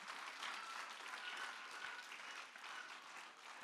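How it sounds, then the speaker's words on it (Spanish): A church congregation applauds in a steady, sustained wash of many hands clapping, heard somewhat distant and even throughout. "Démosle un fuerte aplauso al Señor."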